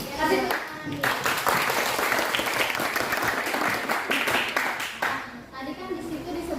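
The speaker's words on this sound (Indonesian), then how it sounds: "Kasih tepuk tangan." An audience at a teacher training session applauds, the dense clapping holding at a fairly even level throughout, while voices talk over part of it.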